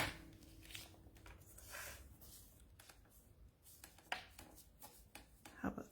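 Craft paper being cut with scissors, a run of close, crisp snips and rustles at an uneven pace, with faint voice sounds in the background.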